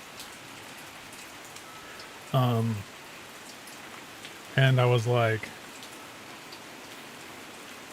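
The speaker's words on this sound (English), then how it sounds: "that's the rain." Steady rain falling during a thunderstorm outdoors, captured with a field recorder: a constant soft hiss runs throughout, while someone speaks briefly twice over it.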